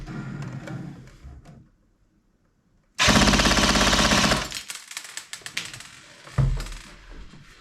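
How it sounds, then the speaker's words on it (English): An A&K M60 airsoft support gun fires a loud, sustained full-auto burst through a chronograph, a rapid mechanical rattle lasting over a second, then a few trailing clicks and a single sharper knock. "Let's fire it through this and see if we are now able to take this to a skirmish."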